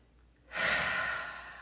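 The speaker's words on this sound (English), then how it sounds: "Take a nice inhale here and exhale it out your mouth" A single exhale of breath pushed out through the mouth during a guided breathing practice, a soft airy rush starting after a brief quiet moment and slowly tapering.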